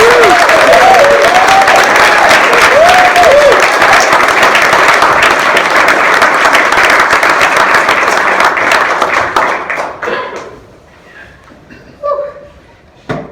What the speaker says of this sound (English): Everybody, please, a round of applause for Audrey coming to the stage.